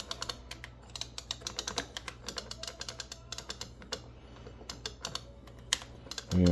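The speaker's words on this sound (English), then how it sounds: "Now you can type in the game that you're looking for." Rapid keystrokes on a computer keyboard at a Simpsons arcade machine search screen, an irregular run of light clicks throughout, close and clear, with a louder thump at the very end.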